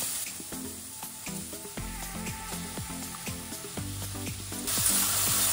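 Meat sizzles steadily in extra virgin olive oil in a pan over medium heat, with a constant close crackle and occasional scraping stirs.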